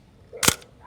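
A Zenit E film SLR trips its shutter at 1/250, giving one crisp, close clack with a short mechanical tail and a soft lead-in, and no other sound follows.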